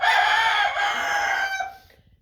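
A rooster crowing loudly and close in a chicken coop, one drawn-out call that fades away after about two seconds.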